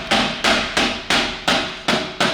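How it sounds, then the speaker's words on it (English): A hammer strikes a rusted turbo bolt held in a big clamp in a garage, landing seven sharp, ringing metallic blows at a steady, roughly even pace. Each hit is loud and close, with no voices. "We're gonna need a hammer."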